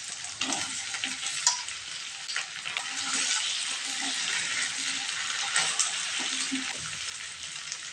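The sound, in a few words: potatoes frying with ginger, cumin and chilli paste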